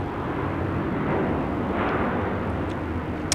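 Jetstar airliner on its takeoff roll at Sydney Airport, a steady broadband roar of jet engines holding at a constant level throughout, fairly loud and unbroken, with no talk over it.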